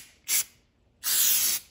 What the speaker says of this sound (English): going to spray some starting fluid on there